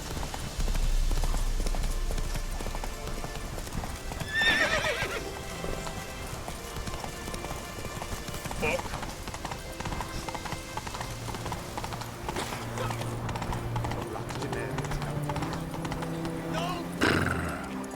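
Roach, the horse in the video game Witcher 3, trots with rhythmic clip-clopping hooves over a wash of rain, game music and distant voices, with an occasional snort.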